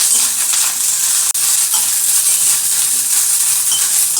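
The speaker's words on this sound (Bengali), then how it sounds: "তো ফুলকপিটা ভেজে নিচ্ছি," Cauliflower pieces fry in a pan of hot oil, sending up a loud, steady sizzle and hiss with a brief break midway and no talk.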